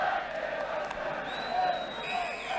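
A football crowd of 28,000 at Stamford Bridge murmurs and cheers in a broad, distant wash of voices before kick-off, with a few whistles rising above the steady roar.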